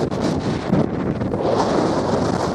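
Strong, steady wind buffets the microphone with a loud, continuous roar that never lets up.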